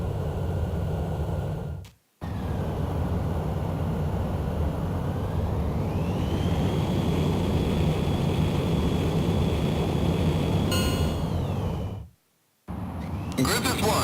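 A jet fighter takes off in the game Ace Combat X: a loud, sustained engine roar whose whine climbs steadily in pitch as it gathers speed, with short breaks of silence and radio voices heard over it.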